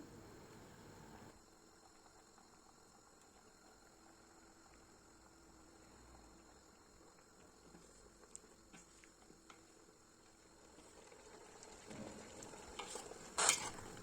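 Capia pepper pickle brine coming to a boil in a pot gives a soft, steady bubbling hiss that stays low and constant, then swells slightly toward the end with a few brief clinks.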